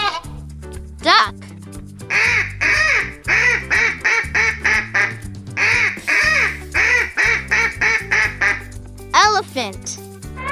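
Duck quacking in a rapid run of many short, loud, nasal quacks in two bursts over a cheerful children's music track, with brief playful voice effects at the start and end.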